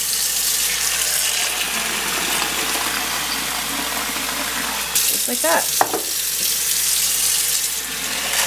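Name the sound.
tap water filling bowls for soaking nuts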